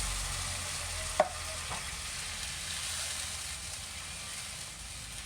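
Diced petite tomatoes stirred into a pan of sizzling garlic and onions for a quick pasta, giving a steady frying hiss with a couple of brief stirring clacks near the start.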